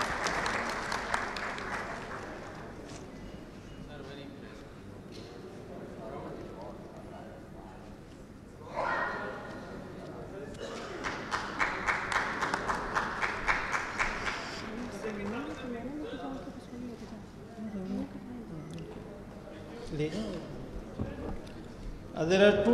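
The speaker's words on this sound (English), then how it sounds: "We should have a round of applause for him for his efforts." An audience gives a round of applause during a speech by a Pakistani justice at a certificate ceremony, the clapping swelling in the middle and lasting many seconds, with speech from a presenter before and after it.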